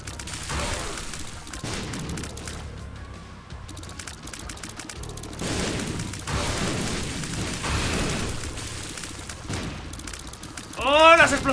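Explosions in The Binding of Isaac gameplay: repeated booming bursts that swell and fade in waves over a continuous game soundtrack, with a chirpy effect at the very end.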